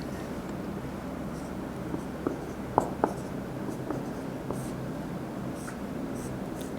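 Someone writes a chemistry formula on a board, making soft scratchy strokes with a few sharper taps in the middle, faint beneath a steady background hiss.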